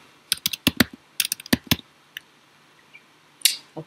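Keys on a computer keyboard are typed in short bursts of crisp, close clicks, with a brief pause in the middle and a few scattered final taps in a quiet room.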